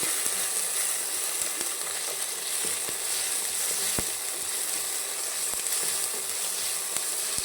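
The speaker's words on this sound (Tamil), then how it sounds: "தக்காளி ஆட் பண்ணி தக்காளி நல்லா வதங்கணும் ஃப்ரெண்ட்ஸ்." Tomatoes sautéing in a pan with a steady, loud broadband sizzle throughout, broken by occasional sharp clicks of a utensil against the pan, with no voices.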